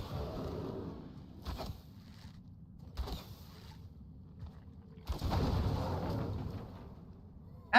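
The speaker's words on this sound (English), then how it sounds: "How did I get hit in that massive explosion?" Deep, booming bursts from a huge explosion during a castle siege in the game Enshrouded. A heavy rumble opens, shorter thumps follow, and a longer roaring blast comes near the end, with quieter stretches between.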